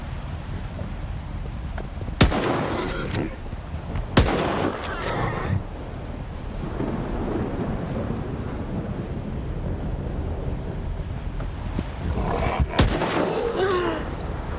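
A few sharp gunshots crack out, spaced several seconds apart, over a continuous rumbling, clattering game background, while shooting boars in S.T.A.L.K.E.R. 2: Heart of Chornobyl.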